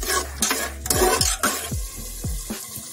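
Goat liver and masala frying in a pan, a steady sizzle broken by repeated scraping and stirring strokes of a spatula against the metal, close and clear with no talking.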